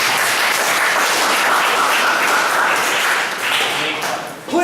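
An audience at a leadership session claps for a team, a dense, loud burst of applause that runs continuously and fades slightly near the end, with voices mixed in.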